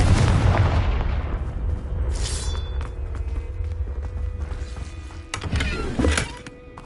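Confringo spell blast in a video game, a loud booming burst opening with a rumbling tail, followed by sharper crackling impacts and a second strong blast near the end.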